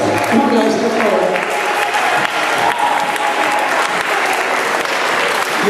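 An audience at a school oral presentation event applauding steadily, dense clapping sustained throughout, near and loud with faint crowd murmur.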